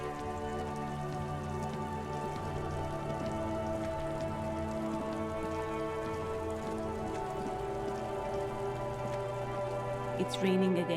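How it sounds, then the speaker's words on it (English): Rain falls steadily in the video game Disco Elysium, a soft continuous patter under sustained tonal game music, ending with a brief louder clatter near the close. "It's raining again. It was clear just an hour ago."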